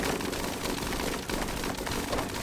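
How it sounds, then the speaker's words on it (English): Miniguns fire in the video game Rimworld during a fight on a combat tile, a dense, unbroken roar of rapid gunfire that stays loud for the whole stretch, with no voices. "It's like a corpse explosion when the miniguns start firing."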